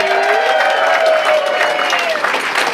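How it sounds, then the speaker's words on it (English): A theatre audience at a magic show in the Magic Castle's Palace of Mystery applauds in a loud, continuous wash of clapping, with some whistling tones over it. "let's have a nice big round of applause for your featured entertainers, Mr. David Sandy and Mr. Jason Andrews."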